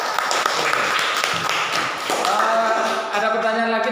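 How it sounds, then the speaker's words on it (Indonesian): A classroom audience applauds for a student group, a dense, steady burst of many hands clapping close by for several seconds. "Kasih aplaus dulu untuk kelompok 2"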